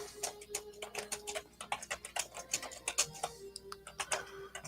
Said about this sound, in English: Let me type in a joke here.